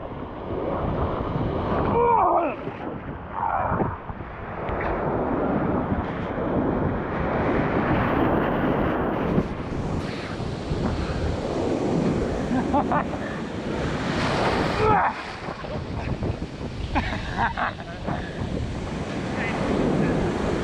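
Ocean surf crashes and rolls on the shore in a loud, continuous wash, with heavy wind buffeting the microphone throughout.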